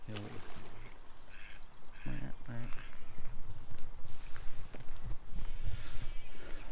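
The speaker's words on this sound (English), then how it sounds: "We got another mallard" A mallard duck quacks in short repeated bursts beside a canal, fairly close, mixed with footsteps and outdoor noise while a person talks.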